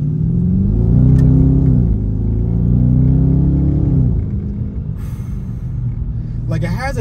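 A 2021 Dodge Charger R/T with a naturally aspirated V8 pulls away from a traffic light, its deep engine roar loud and close and rising in pitch through the revs, then easing off to a lower rumble.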